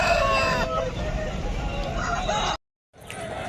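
A rooster crows loudly and close by at the Nallapadu chicken market, its call rising over dense market hubbub before a brief cutoff into silence.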